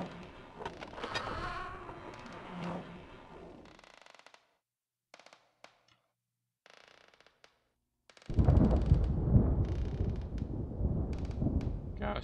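Thunder in the horror video game Wooden Floor: a loud, deep rumbling roll bursts in after a near-silent stretch and keeps going, with earlier rustling and crackly game sounds before it.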